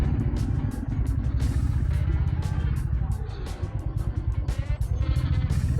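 Congested Bangalore road traffic on a rainy day, heard as a close, loud rumbling motorcycle engine with clattering passing vehicles.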